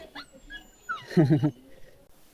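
A husky dog whimpers close by with a thin, high whine that slides downward, followed by a short burst of louder, pitched yelping whimpers that then fade into quiet.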